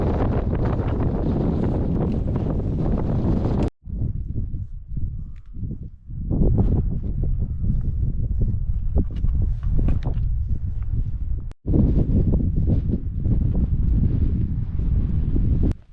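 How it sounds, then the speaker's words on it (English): Strong wind gusts across an open slope in the Cairngorms mountains, roaring loudly into the microphone in long blasts with a brief lull between them and short dropouts. "the wind comes back and takes all the heat right out of you again"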